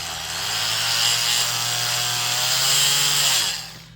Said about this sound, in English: You just put it on and we have our good old oscillating tool.